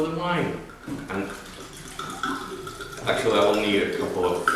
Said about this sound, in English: So, pour the wine.